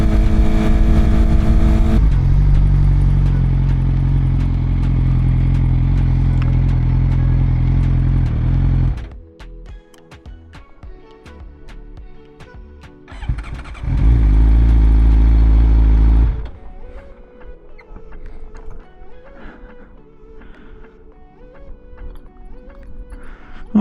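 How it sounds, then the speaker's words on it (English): A Suzuki GSXR 600 sport bike engine revs hard and steadily for several seconds, then falls to a rough, clattering idle before a second loud rev burst and another settle to idle, all close to the microphone. "It revs a lot more than my bike does"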